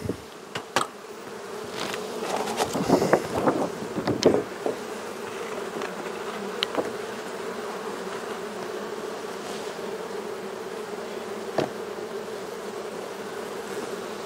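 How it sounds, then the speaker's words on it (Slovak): A large honeybee colony hums in a continuous, steady drone, close and fairly loud, with occasional individual bees buzzing past near the start and a few faint knocks. "A ešte im dám. Je to veľké včelstvo."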